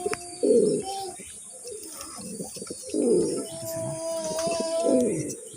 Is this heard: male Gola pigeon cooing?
yes